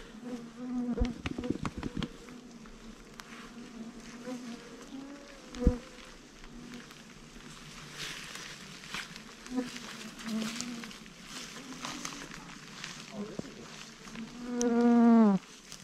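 Mosquitoes swarming in interior Alaska, a close whining buzz of many insects around the microphone, rising and falling as they fly past, with a loud buzz right at the mic near the end and a brief handling knock midway.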